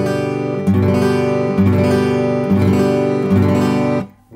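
Guitar strings struck with the pick angled along the string give a rounder, plucky chord, strummed four times in an even rhythm, each ringing on before the sound cuts off at the end.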